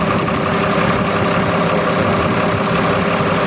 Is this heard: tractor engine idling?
yes